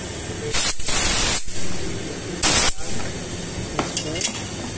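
Hissing sprays directed onto the elbow of a petrochemical cracking furnace: three loud, harsh bursts with short pauses between them, then softer, scattered spurts toward the end.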